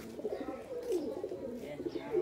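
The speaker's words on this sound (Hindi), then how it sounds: "और ये देखो अपना कैसे घुटाक रहा है कबूतर, गोल्डन में है।" A pigeon coos softly nearby in a repeated low, throaty rolling call, a few murmured phrases in quick succession.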